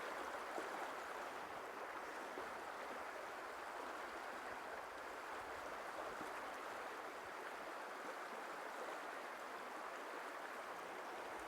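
Fast-flowing water of the Ausable River rushes steadily during trout fishing, a dense even hiss with no pauses, close by, and no voices.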